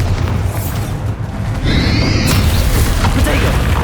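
Booming blast of the Bombarda spell in the video game Hogwarts Legacy, a loud dense rumbling explosion filling the whole moment, with a character's shouted voice mixed in.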